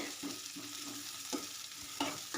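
Onions and mustard seeds frying in a pan for a quick chutney give a soft sizzle broken by several spatula scrapes and stirs, close up and with no voices.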